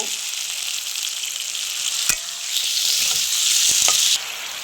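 Cumin and chili powder paste sizzles loudly as it meets softened, cooked tomatoes in a pan. A sharp clatter lands midway, then the frying swells louder before easing off near the end.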